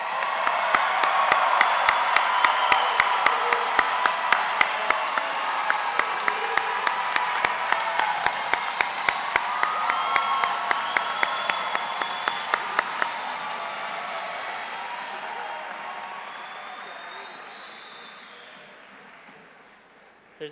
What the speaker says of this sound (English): Let's give one last big round of applause for all of our graduates.